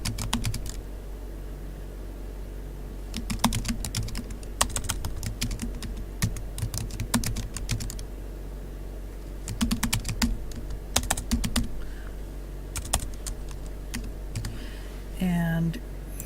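A post title typed on a computer keyboard for a WordPress blog, bursts of quick keystroke clicks separated by pauses, close and moderately loud, with a voice speaking at times.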